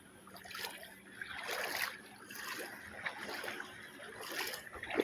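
Sea waves rolling in at a beach, soft swelling washes of water rising and falling every second or so, fairly faint and close with no voices over them.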